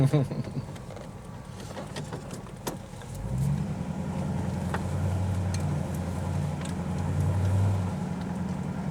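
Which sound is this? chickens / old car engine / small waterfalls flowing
old car engine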